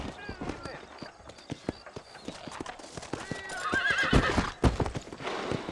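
Horse hooves clip-clop in a steady, repeated beat in Red Dead Redemption, with a sharp, loud whinny near the end. Faint game chatter runs underneath.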